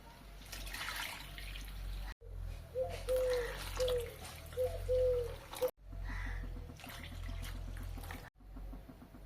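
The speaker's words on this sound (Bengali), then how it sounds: "আবারও ওই কড়াইয়ে এখানে নিয়ে নিচ্ছি 4 কাপ দুধ" Four cups of thickened, reduced milk pour into a wok for lachha semai, a soft watery trickle and splash that runs in bursts with short breaks, close and moderately loud.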